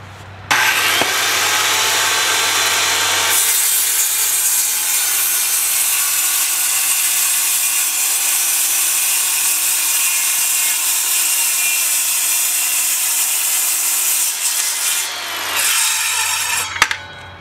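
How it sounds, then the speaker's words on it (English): A circular saw rips through a board clamped on top of plywood, a loud, sustained high whine lasting about twelve seconds, with the blade spinning up at the start and winding down at the end, close and alone. "Then just clamp it down, grab your circular saw and make your cuts."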